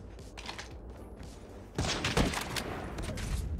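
Gunshots in a sniper video game: a quiet stretch of faint clicks and small pops gives way to a loud burst of crisp, rapid shots that keep cracking close by until the end.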